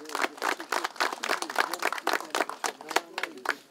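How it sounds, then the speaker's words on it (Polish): An audience at a gathering honouring a veteran soldier gives steady applause, many hands clapping in dense, uneven bursts at moderate distance, with a voice faintly present underneath. "Proszę o gromkie brawa."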